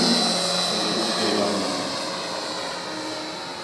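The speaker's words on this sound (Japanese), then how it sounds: "アルバトロスはサウンドシステムを組み込んでいます。" Steady engine drone from the built-in sound system of an RC Albatros WWI biplane, a continuous moderately loud propeller-like hum that fades slightly over a few seconds, with no talk.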